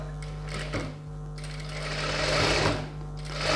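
Sewing machine stitching a chudidhar top, a fast steady mechanical whir with a constant hum, close up and running continuously without talk.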